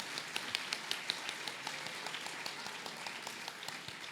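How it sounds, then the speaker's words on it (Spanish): An audience at a book launch gives a light, fairly soft round of applause, scattered claps blending into a steady patter that runs throughout. "El aplauso es mío para los escritores."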